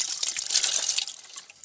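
Water pouring from a tap for a drink, a steady bright splashing stream close by that tapers off toward the end.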